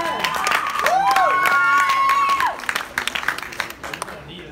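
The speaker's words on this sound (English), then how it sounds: "You can applaud him, by the way, if you want." An audience at an illegal immigration debate applauds and cheers a debater, a dense burst of clapping mixed with raised voices that fades after a few seconds.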